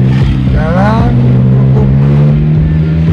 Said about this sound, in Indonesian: Nah, ini di depannya truk ini ngangkut batu ini.